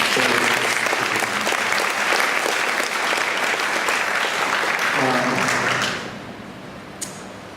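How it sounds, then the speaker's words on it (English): Audience at a public debate on stem cell therapy applauding the panelists, sustained loud clapping that fades out near the end, followed by a brief faint knock. "Can we give them a round of applause?"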